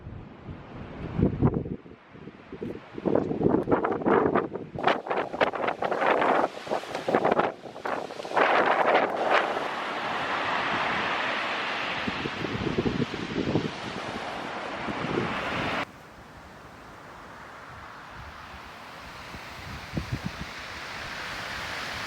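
Waves surge and break on the pebble beach at Étretat, dragging stones that rattle and clatter in bursts, with heavy wind buffeting the microphone throughout before the roar eases to a steadier, softer wash.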